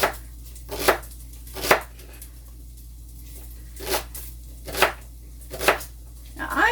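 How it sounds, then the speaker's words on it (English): Knife chopping celery and onions for corn chowder: six or seven crisp, separate cuts spaced irregularly about a second apart, close and clear over a low steady hum, with no talking. "I don't look at the camera when I'm chopping my celery or my onions"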